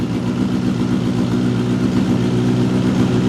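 A stock motorcycle revs hard in a garage with its rear wheel spinning, giving a loud, continuous, close engine roar that holds steady with slight pulsing throughout.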